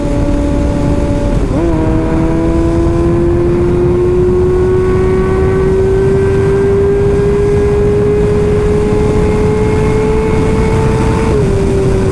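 A Kawasaki Ninja ZX-6R running a Power Commander tune pulls hard on the road, its steady engine whine climbing in pitch after a quick gear change. The engine is loud and close, with heavy wind rush throughout.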